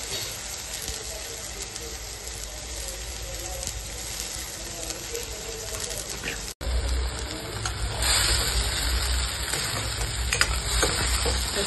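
Ground spice paste sautéing in hot oil in a pan over medium gas for a Maharashtrian green pea curry, a steady dense sizzle and crackle with stirring scrapes, louder and fuller in the second half.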